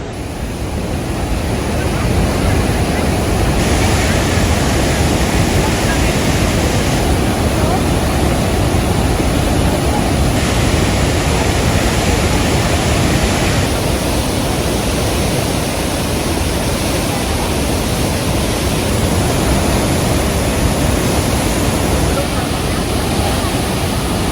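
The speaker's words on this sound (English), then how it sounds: "so forceful that the water that falls down splashes back up like 80 feet. And it's just like, it's just a cascade of power." A powerful waterfall on the river Nile roars as a loud, dense, unbroken rush of crashing water that stays constant throughout, close and overwhelming, with faint talk buried in it.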